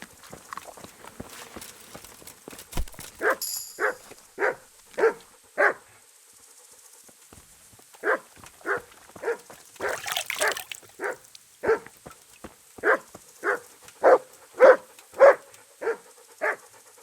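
Mutt, the dog in the video game Kingdom Come Deliverance, barks in a rapid series of sharp yaps. Bursts of five or six barks are separated by short pauses, with clattering sounds in the background and no talking.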